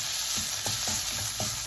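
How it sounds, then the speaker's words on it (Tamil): Onions sautéing in a pan for Sri Lankan chicken mithivedi, a steady sizzle with several soft scrapes of a spoon stirring at an even pace, close and moderately loud, no talking. "வெங்காயம் பார்த்தீங்கன்னா தெரியும் ஓரளவுக்கு வதங்கிட்டுது"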